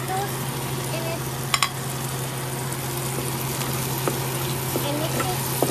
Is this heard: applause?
no